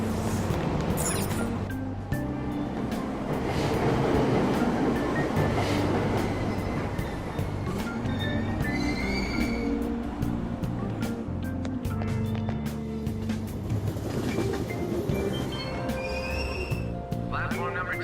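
Persona 5 Royal subway train scene: a train rumbles and clatters steadily along the rails at moderate volume, with wheel noise throughout and station announcements heard over it.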